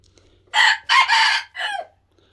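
A jungle-fowl-like F1 gamecock crows loudly and close by, a single multi-part crow of three bursts with a falling tail, with near silence around it.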